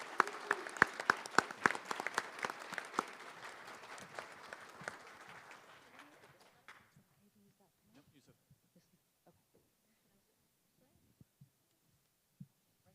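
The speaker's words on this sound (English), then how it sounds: "give her a round of applause as she comes up for her hard work" A round of applause breaks out at a city council reorganization meeting, brisk clapping from a modest crowd that fades away after about six seconds into near silence with a few faint sounds.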